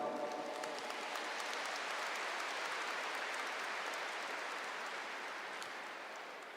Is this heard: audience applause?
yes